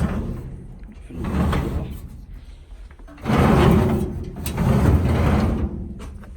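Drawers opened and shut in an abandoned mill, giving several loud wooden or metal scraping slides with knocks, in bursts separated by quieter shuffling, close by with no speech.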